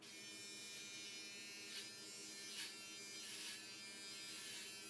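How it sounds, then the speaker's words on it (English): Steady high buzz of an electric beard trimmer cutting hair during a home haircut, faint and continuous with slight swells as the blades pass through hair. "That's definitely a beard trimmer."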